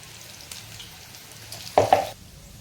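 Okra coated in gram flour frying in a pan, a faint low sizzle broken by a couple of louder scraping stirs near the end.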